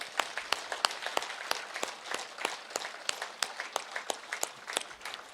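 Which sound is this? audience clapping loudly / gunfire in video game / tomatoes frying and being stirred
audience clapping loudly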